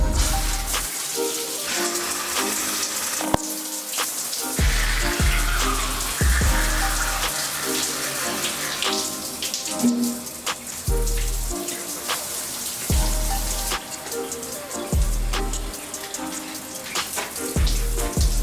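Shower water runs steadily in a home bathroom, a continuous splashing hiss broken by repeated low thumps and drips as the spray hits a body and surfaces, close and loud with no voices.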